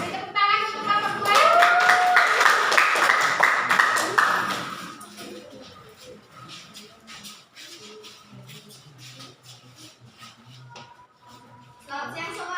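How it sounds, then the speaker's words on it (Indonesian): Classroom audience of teacher-training participants claps for group 2, a loud burst of hand clapping that fades after about four seconds into shuffling, murmurs and scattered taps, with a voice speaking briefly near the start. "Beri tepuk tangan untuk kelompok 2."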